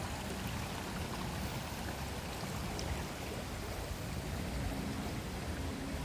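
Water runs steadily from the back of a wilderness lodge resort down toward the swimming pool, a continuous broadband rushing like a stream, moderately close and unbroken, with no voices.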